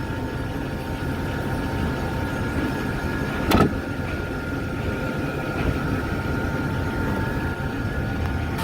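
A Ford Econoline van's 5.4 engine runs steadily at idle, a continuous low drone with a faint whine, close by, with one brief sharp clack partway through.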